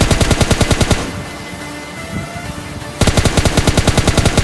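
Automatic gunfire in a video game shootout, rapid bursts of evenly spaced shots for about a second, a short pause filled with softer noise, then another fast burst, loud and close.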